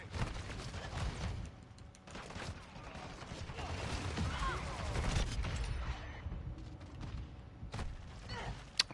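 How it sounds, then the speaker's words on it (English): Mortar strike explosions and gunfire in the video game Modern Warfare 2 on the Shipment map, with dense bursts of booms and shots. A voice talks over the whole stretch of combat. "Friendly mortar strike on the way."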